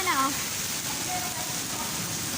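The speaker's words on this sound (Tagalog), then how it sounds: "sobrang lakas ng ulan" Steady hiss of heavy rain pouring down near Marina Bay Sands, a dense wash of noise throughout, with a faint voice-like sound briefly at the start.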